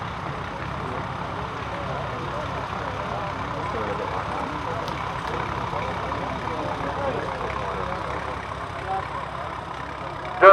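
A heavy tractor engine idles with a steady low rumble throughout, moderately close, at a heritage weekend parade, with a little crowd noise in the background.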